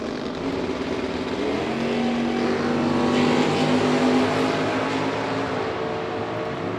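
A Mustang and a Camaro drag racing at a bracket race, their engines holding a loud, steady roar that swells slightly midway and stays close throughout.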